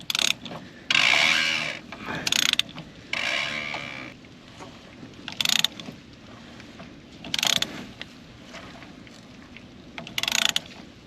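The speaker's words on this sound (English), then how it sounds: "It's got the nut on there, so we'll just twist her out." Ratcheting clicks in short bursts, close and fairly loud, as a wrench turns the fuel filter nut on a 2022 Chevy 2500 with the 6.6 L Duramax, with quieter pauses in between.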